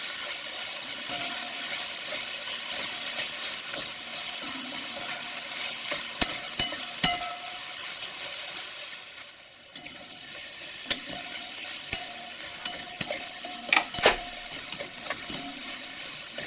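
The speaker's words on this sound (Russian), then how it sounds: "Обжариваю, периодически помешивая." Onion frying in a pan with beef and bacon, stirred now and then: a steady, fairly quiet sizzle broken by sharp clicks and scrapes of a utensil, with no talking.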